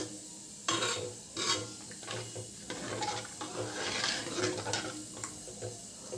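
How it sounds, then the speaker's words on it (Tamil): Pepper rasam being stirred in a pot on the stove: a continuous close scraping and swishing with soft metallic clinks and a faint bubbling simmer, at moderate loudness with no voices. "இது நல்லா கிளறிக்கலாம்."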